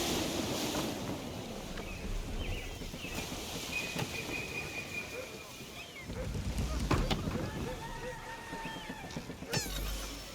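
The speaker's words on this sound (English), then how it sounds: "Gusty winds can be difficult to manage" Gusty wind roars and waves wash around a sailing ship in Assassin's Creed III, a continuous broad rush with rising gusts, creaks and splashes, while voices speak over it.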